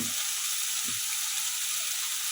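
Oil sizzling steadily in a hot pan while fish curry cooks, a continuous bright frying hiss with a couple of soft low knocks beneath, close and alone.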